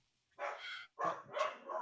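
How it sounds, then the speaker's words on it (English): Dogs bark close by in two quick bursts, the second a rapid double bark, with nothing else under them. "Oh, shush, dogs."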